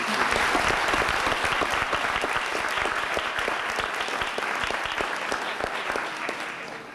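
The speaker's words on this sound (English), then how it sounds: "give everyone a huge round of applause for everything that they accomplished here at MSVU" Dense, sustained applause from a large audience at a 1998 university awards night at MSVU, steady and loud throughout with no voices over it.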